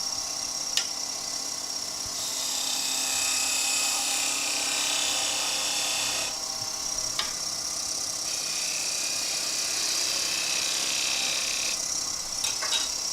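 A woodturning lathe gently trims each end of a turned leg for a German smoker project. It gives a steady high whir whose tone shifts between cuts, with a few sharp ticks, close and alone.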